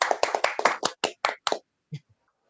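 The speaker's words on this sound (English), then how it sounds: "Clap hands, clap hands, clap hands." A handful of close, crisp hand claps sound in quick succession, about nine in a row, then a softer lone clap after a short pause, with quiet surroundings.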